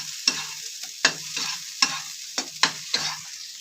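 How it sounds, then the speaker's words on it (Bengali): Spinach paste stirred in a frying pan with quick, sharp scraping strokes, about six evenly spaced in a row, each followed by a brief sizzle, close and distinct. "এক মিনিটের জন্য এইভাবে লাড়িয়ে চাড়িয়ে নিচ্ছি।"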